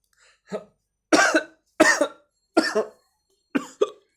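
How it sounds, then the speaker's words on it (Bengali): Several harsh coughs from one person, loud and close, in short bursts: a single cough, then three spaced coughs and a final quick double cough, with silence between them. "সরি, কাশি হয়েছে।"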